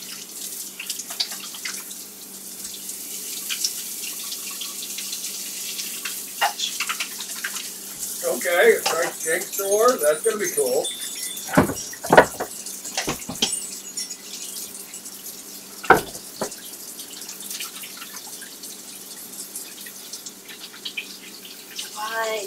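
Water running from a kitchen tap into a sink, a steady hiss of flow under the clatter of dishes and people talking nearby.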